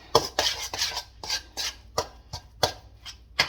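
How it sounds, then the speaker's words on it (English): A utensil stirs a mixture in a bowl in quick, irregular scraping and clinking strokes, close and clear with no voices. "We're going to stir this up."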